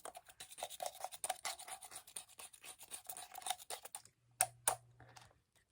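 Daiso macaron tape is peeled off its roll in a quick burst of close, dry scratchy rasps, followed by a brief pause and two sharp clicks.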